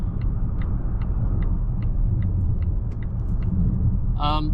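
A Volvo XC90 D5 drives on a road during a test drive, its steady low road and engine rumble continuous from inside the cabin, with rhythmic faint ticking and a brief tone near the end.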